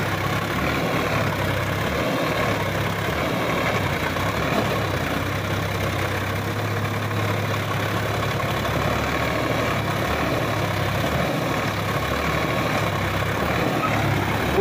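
Sonalika DI 50 tractor engine labouring under load while pulling a sand dumper, a steady heavy low drone that holds constant and loud throughout, with no talk.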